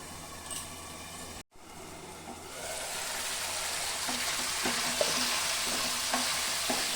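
Paneer sizzles and spits in a hot pan while being stirred, an abrupt clatter and brief gap giving way to a rising, continuous fry with scraping strokes of the spoon, no talking.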